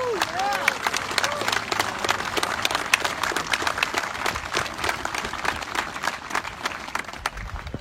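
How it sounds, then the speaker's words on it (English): An audience applauding veterans at a ceremony: sustained, dense clapping from a crowd, fairly close and even throughout, with a few voices faintly mixed in. "One more time, a big round of applause."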